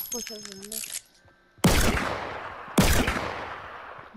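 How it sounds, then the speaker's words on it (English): Two loud, sharp revolver shots ring out in Fortnite, spaced about a second apart, each trailing into a decaying echo after a short bit of in-game sound. "I killed one of them with a revolver."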